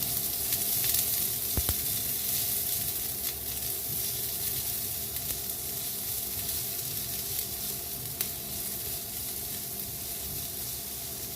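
Onion, garlic and ginger sauté in a pan with a little oil for Bicol Express, giving a steady, moderate sizzle with a few sharp clicks and stirring scrapes.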